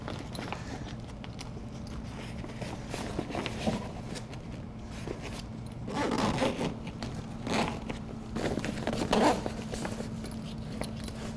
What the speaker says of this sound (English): And then you zip this side.